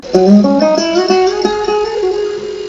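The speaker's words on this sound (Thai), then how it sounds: "กีตาร์นะครับเสียงของกีตาร์" Plucked guitar notes ring out one after another in a gentle melodic line, close and clear with no voices.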